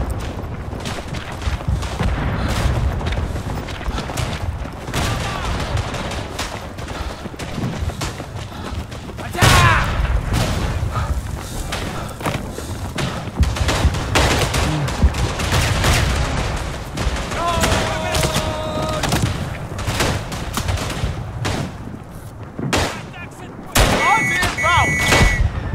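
Repeated grenade explosions mixed with rifle and machine-gun fire in the World War I shooter Verdun, set in the Argonne, with near, loud thuds and booms running throughout and a player talking over the battle.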